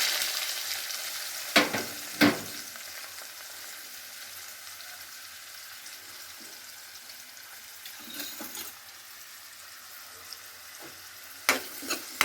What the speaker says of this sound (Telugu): ఉల్లిపాయలు బాగా వేగాక ఓకేనండి, ఇలా వేగుతూ ఉంటాయి